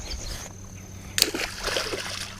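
A single sharp splash of a freshly caught 8-pound carp slipping back into a muddy river, short and close, followed by light sloshing and trickling water.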